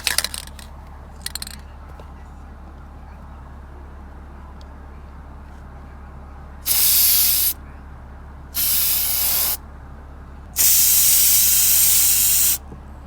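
Three separate bursts of aerosol spray paint applied to steering wheel controls, each a loud hiss lasting one to two seconds, with the last burst the longest. A low steady hum sits under them.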